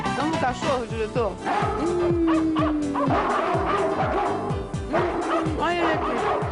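A dog barks in a quick, loud, steady run of yips and woofs close by, with a whimpering whine partway through, on a Brazilian TV studio set with voices underneath.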